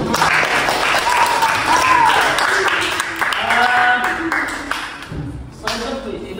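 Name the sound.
audience applause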